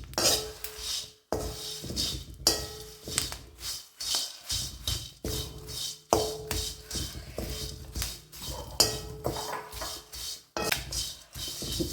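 Washed curry leaves dry-roast in an empty pan for curry leaf pepper chicken, heard as repeated close clattering and scraping of a utensil against the pan in uneven bursts with no talking.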